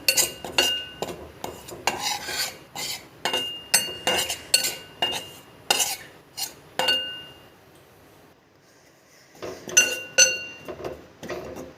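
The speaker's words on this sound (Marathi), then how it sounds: "1 वाटी बेसन घेतलं। आता हे आपण कमी गॅसवर भाजायचं छान खरपूस होईपर्यंत।" Gram flour roasting in a pan over low heat, with repeated sharp metallic clinks and scrapes of a spoon stirring against the pan in irregular bursts, a brief quiet pause before the stirring resumes.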